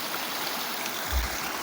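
Cold water flows steadily at an outdoor bathing spot, a constant near rush with a brief low thump partway through, no talk.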